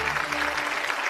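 Brief, dense applause fills a hall at a Chinese television drama awards gala as guests are welcomed onto the stage.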